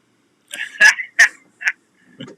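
A person imitates snow goose calls, giving about five short, sharp, high honking bursts in an irregular rhythm, loud and close in a quiet room.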